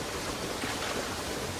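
A waterfall in the video game Far Cry roars as a dense, steady rush of falling water, constant and fairly close, with no voices over it.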